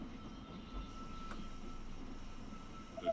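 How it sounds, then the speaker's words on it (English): A train pulls into a station in the strategy game They Are Billions, heard as a steady low mechanical rumble with a faint rising tone near the end, moderately quiet and without speech. "The train has arrived at the station."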